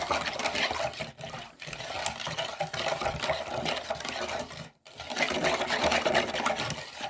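Lemon zest, ground in a Moulinex grinder, being mixed into cream for a lemon cake topping, giving a steady dense whirring churn that runs almost without pause, dipping briefly twice.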